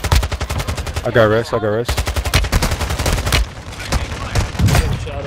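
Rapid automatic gunfire in the video game Warzone, loud and sustained in repeated bursts, with someone talking briefly over the shooting.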